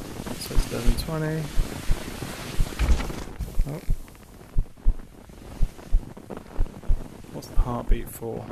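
A steady thumping heartbeat sound effect in the Carve Snowboarding VR game pulses at a regular pace under wind-like rushing noise and faint voice sounds.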